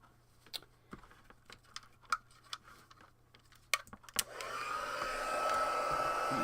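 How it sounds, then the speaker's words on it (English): A few scattered taps and clicks give way to a heat embossing tool switching on, its hot-air blower settling into a steady, close whooshing roar that runs to the end. "And now we'll turn on the heat tool."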